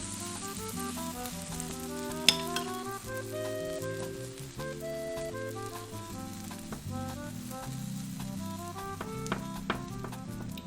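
A buttered grilled cheese sandwich fries in a pan, giving off a soft, steady sizzle beneath background music, with a few light clicks and no speech.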